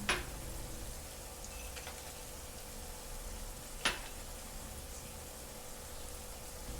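Almonds and cashews frying with onions in a hot pan, a quiet steady sizzle with two faint clicks of a spoon against the pan.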